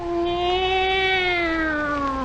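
A single long, drawn-out meow from a tomcat, loud and close, its pitch holding steady, then sliding slightly lower as it fades.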